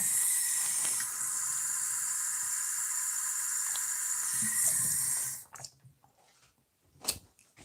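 Tap water running steadily with a bright hissing splash for about five seconds, then cutting off, leaving a few faint clinks and a short knock in a quiet room.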